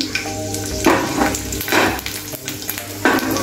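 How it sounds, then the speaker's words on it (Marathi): Seven or eight garlic cloves sizzle in hot oil in a pan for a dhaba-style lasooni methi, a steady frying crackle with repeated stirring scrapes about once a second, close and loud with no talk. "त्याच्यामध्ये मी 7 ते 8 अशा आपल्या लसणाच्या पाकळ्या टाकते आहे तेलामध्ये"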